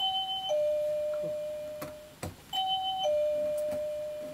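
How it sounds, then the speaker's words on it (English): A doorbell chimes twice, each a two-tone ding-dong with a sustained ringing decay, heard close over a low background hiss with a couple of faint clicks between the rings. "The bell is healthy again."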